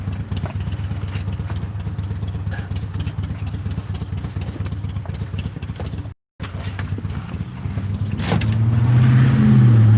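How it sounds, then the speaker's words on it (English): Engine of a 2020 BMW X3 30i with a 345-horsepower twin-turbo inline-six, a steady loud drone from inside the moving car that briefly cuts out, then swells louder near the end as the engine works harder. "I can just whistle past you with these twin turbo inline 6"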